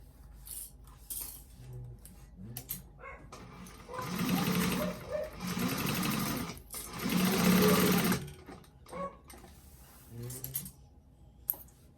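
A sewing machine stitches up the side of a bag's lining in three bursts of steady mechanical whirring, separated by quieter pauses filled with small handling clicks and taps.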